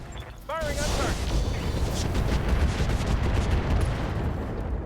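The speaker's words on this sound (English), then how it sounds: "Firing on target." Mech weapons opening fire in the RogueTech BattleTech mod, a brief rising electronic tone followed by a sustained loud barrage of rumbling, crackling shots.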